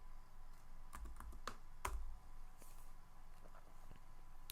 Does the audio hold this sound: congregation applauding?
no